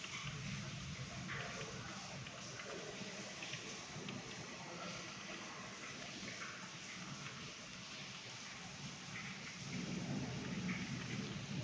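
Heavy rain pours steadily in Saudi Arabia, a dense continuous hiss of drops on surfaces with low thunder rumbling underneath, heard from indoors behind a window.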